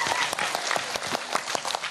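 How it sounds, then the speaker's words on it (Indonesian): An audience at an Indonesian religious gathering claps for the Jatilawang group, giving brief, lively applause with distinct individual claps standing out sharply. "Tepuk tangan untuk Jatilawang,"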